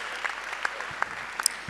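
Audience at a school event for International Day of the Boy Child applauding, a short burst of scattered hand claps at moderate distance, fairly thin and brief.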